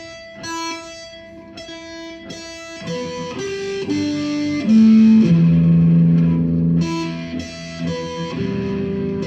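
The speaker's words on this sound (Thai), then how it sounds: "ก็คือเสียงฮาร์โมนิก การทำเสียงฮาร์โมนิกนะฮะ" Bell-like guitar harmonics ring out one after another, bright and sustained, with a distorted, effects-laden tone and some lower notes blending in.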